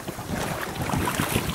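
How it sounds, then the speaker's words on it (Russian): Fresh westerly wind blowing over a sailboat on Lake Issyk-Kul, with constant loud buffeting gusts and rumble across the microphone and waves washing beneath, with no voices. "Ветер западный немножко стих. А потом опять задул."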